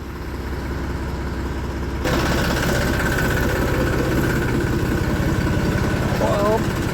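Tractor engine idling with a steady, throbbing rumble close by, growing slightly louder partway through, while someone talks over it.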